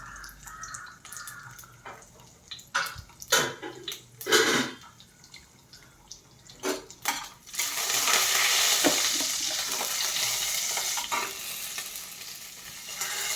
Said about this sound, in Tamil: எண்ணெய் சூடாகிடுச்சு கடுகு உளுத்து மறுப்பு சீரகம் போட்டு ஃப்ரை பண்ணுறேன்